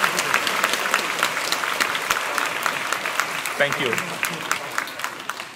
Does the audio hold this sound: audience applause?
yes